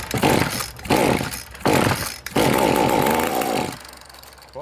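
A small two-stroke engine on an Echo SRM 210 line trimmer under repair revs loudly as the throttle is blipped, surging and dropping several times and then holding a buzzing high rev close by before it falls away.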